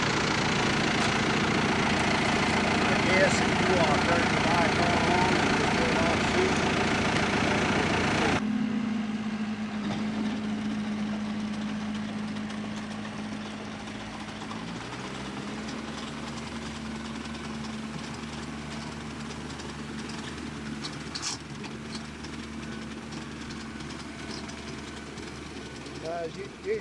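A large tractor engine pulling a Vicon seeder runs steadily at idle, a low constant drone that shifts pitch slightly partway through, with louder broadband noise early on.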